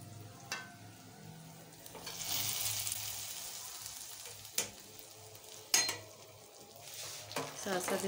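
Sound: stirring pakoras into kadhi with a spoon in a pot

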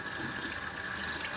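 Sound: tap water running while rinsing shrimp

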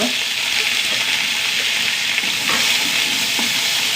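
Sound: shallots frying in a pan

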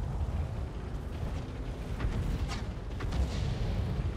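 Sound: Skoda T25 tank gun shots in video game World of Tanks

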